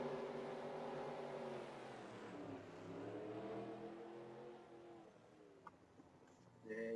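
Race cars on pit road at Indianapolis in a NASCAR-style racing game, a steady engine drone with wavering pitch as cars pass, faint and continuous, with a brief click near the end.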